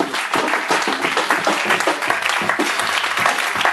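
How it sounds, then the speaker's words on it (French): A church congregation applauds, dense sustained clapping filling the room with scattered voices underneath. "Est-ce que tu ne peux pas acclamer pour ça?"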